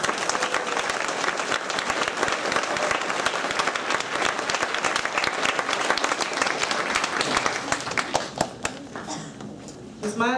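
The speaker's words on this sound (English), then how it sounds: "I give Mr. McAdoo's class a round of applause" Sustained applause from a 6th grade ceremony crowd at Poplar Tree Elementary, dense and steady clapping for a class, fading slightly near the end with a few scattered individual claps and background voices.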